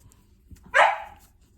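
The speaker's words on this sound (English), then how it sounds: "if dogs barking irritates you, I'm so sorry." A single sharp dog bark rings out close by after a quiet indoor moment, loud and brief before trailing off into near silence.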